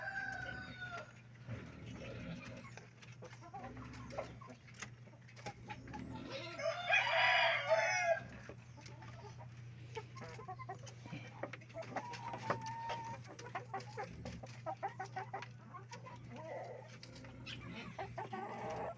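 Hens cluck softly on and off in a poultry yard, with a loud rooster crow rising midway, all over a steady low hum.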